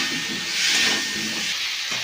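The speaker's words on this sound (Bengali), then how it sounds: "এবার আমি ভেজে রাখা আলুগুলো এর মধ্যে দিই।" Fried potatoes go into hot oil with fish for a chhanar dalna curry, giving a steady, bright sizzling hiss that swells briefly near the middle, with no talking.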